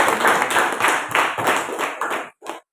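Students in a classroom clap together in quick, fairly even bursts, fairly close. The clapping stops briefly and then one last short burst follows.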